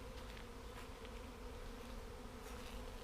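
A huge honey bee swarm hums around a tree outdoors, a dense continuous buzz of many bees at steady loudness with no voices.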